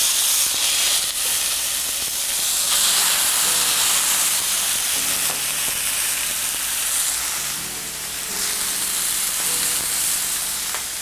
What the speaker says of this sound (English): And straight into the pan with the roast